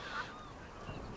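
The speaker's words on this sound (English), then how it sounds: "such an experience hearing all those birds out on the mudflats there" Birds on vast mudflats at night give faint, distant honking and chattering calls, a couple of short cries rising from a quiet background hiss.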